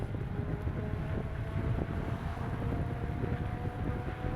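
Strong wind buffets the microphone while riding a Kukirin electric scooter on a road, a steady loud low roar and rumble throughout with no speech.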